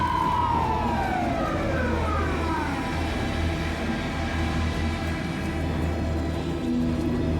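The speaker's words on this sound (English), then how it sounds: "Sudden noises. Police car?" Police car siren in the video game Alan Wake II, one loud wailing sweep that falls in pitch, then keeps sounding over a steady low engine-like rumble, with no talking.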